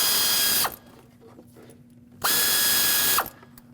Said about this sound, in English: now I'll take my air ratchet with my 8mm socket and take all of them out